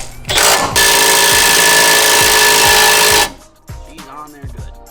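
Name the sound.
impact gun tightening Miata coilover end link bolt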